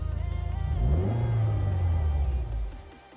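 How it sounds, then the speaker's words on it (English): A Mitsubishi Evo 9 engine gets a single throttle blip, its revs swelling from a steady idle into a loud, close rising growl, holding briefly, then falling back as the engine settles. "We'll give it a bit of a blip."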